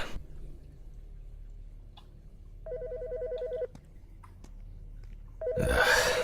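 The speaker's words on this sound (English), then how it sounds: "The fucking phone." Telephone rings in two short electronic bursts about three seconds apart, clear and close, followed by a loud rustling clatter as it is picked up; no talking.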